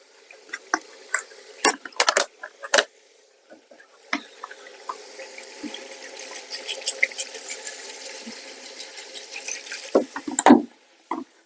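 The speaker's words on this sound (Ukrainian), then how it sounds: "далі додаємо водички" Water is poured into a cauldron while plov is cooked outdoors. Splashing comes in uneven bursts with sharp clinks and drips, over a steady low trickle that ends in a final loud gush.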